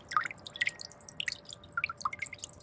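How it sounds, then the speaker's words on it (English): Water trickling and dripping in a homemade solar-powered garden fountain, a steady patter of close, light drips and splashes with no voices. "The soft sound of water."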